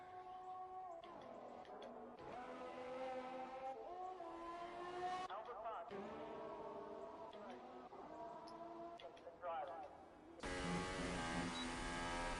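A Formula 1 racing video game car spins out during an Australian Grand Prix league session, with engine whine rising and falling in sweeping pitch changes and tyre squeal, before a burst of broadband noise; a commentator talks over it.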